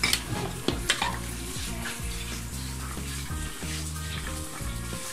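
Beef nihari stirred in a cooking pot, with scraping and soft sizzling bursts near the start, then a steady low bubbling under prominent background music throughout.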